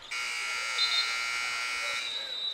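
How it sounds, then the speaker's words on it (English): Buzzer at a men's college basketball game, Ouachita against Henderson State, sounding as one sustained, loud electronic tone lasting about two seconds before cutting off, with faint arena noise around it. "as the buzzer rings, both teams will break out"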